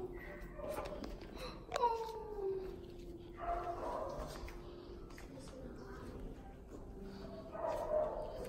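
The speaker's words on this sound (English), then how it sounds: "attack of the puppies." Puppies whimpering and yipping indoors, with a sharp rising whine near the start and scattered small barks and whimpers throughout, close by under a person's speaking voice.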